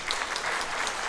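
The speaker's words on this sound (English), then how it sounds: "You can applaud, but they deserve every applause they get" An audience applauds steadily for the second violin section of a symphonic pops orchestra during a concert introduction, a dense, even wash of clapping with no pauses.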